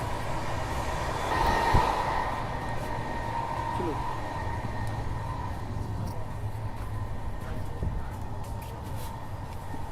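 Malwa Superfast Express train running, a steady low rumble and rattle of the moving carriage heard from inside, with a faint screech near the start and voices in the background.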